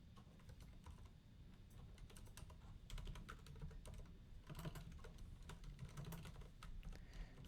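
Code is typed on a computer keyboard in a steady stream of quick, soft key clicks, close and alone, with bursts of faster strokes and brief pauses.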